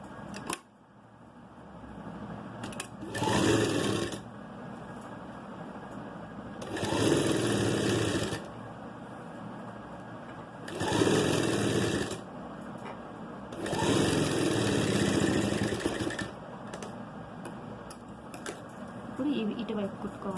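A sewing machine stitches a cloth face mask in four separate bursts of fast, rattling whirring, each lasting a second or two, with quieter handling sounds in between and someone talking through the gaps.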